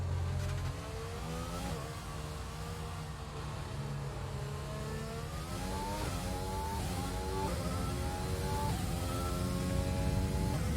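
A Formula 1 car engine in the F1 2020 racing game on Xbox One X, high-pitched revving climbing through the gears as it accelerates, with steady upshifts, loud and continuous.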